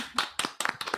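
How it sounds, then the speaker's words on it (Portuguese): A short burst of hand clapping from a small audience at a talk on purple team security, several distinct loud clusters of claps with brief gaps between them, no talk. "Uma salva de palmas para a Dani."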